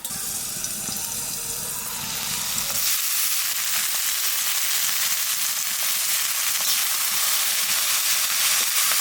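Garlic frying in oil for a cauliflower-leaf paste dish, a steady broad hiss throughout that thickens and brightens after a few seconds, close and fairly loud with no talking.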